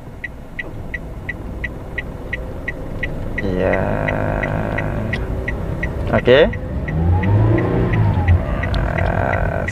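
A car's engine revs up steadily as it pulls away on an uphill slope during a driving lesson, a continuous rising hum with tire noise, while an instructor and learner exchange brief words over it.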